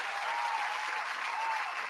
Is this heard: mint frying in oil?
no